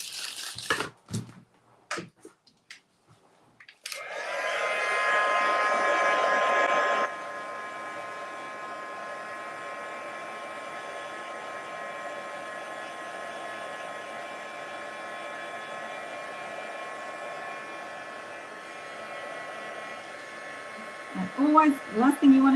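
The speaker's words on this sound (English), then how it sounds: "I'm going to hit that with a heat tool for a second" Heat tool drying stamped ink on a Stampin' Up! card, a steady close whooshing blower hum that runs loud for a few seconds then continues slightly softer for a long stretch, with handling clicks around it.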